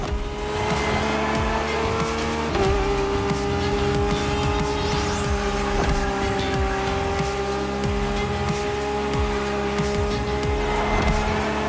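Lamborghini cars racing in The Crew Motorfest video game, with engines howling and shifting pitch, tires squealing and cars rushing past, the sound steady and loud throughout.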